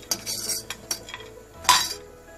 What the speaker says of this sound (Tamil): ஜஸ்ட் மேஷ் பண்ணால் போதும்